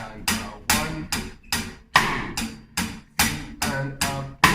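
Cross-stick drum beat struck over and over in a steady rhythm, each crisp woody click close and distinct with brief decay, no other instruments.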